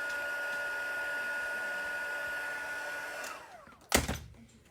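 A heat embossing tool blows hot air onto Christmas card pieces, making a steady whirring drone that winds down near the end, followed by a short clunk as it is set down.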